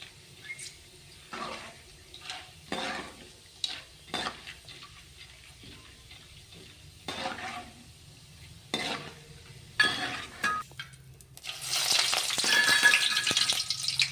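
Peanuts and roasted gram frying in oil for a masala peanut snack, stirred in the pan with intermittent scraping strokes. A soft sizzle runs underneath and swells into a loud, steady hiss near the end. No one speaks.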